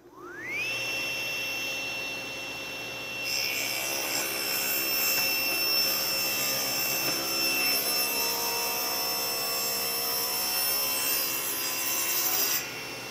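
Table saw spins up with a rising whine, then bites into wood as a stick pushes the board straight through for a cross-cut, a loud steady cutting roar held for several seconds before the blade runs free again.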